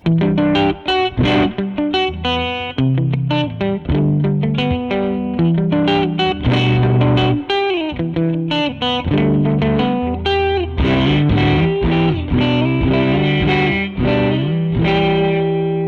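Electric guitar with a mildly overdriven, rounded tone from a Jazzmaster's middle pickup position, strumming chords and picking lines, steady and loud throughout with light chorus and reverb.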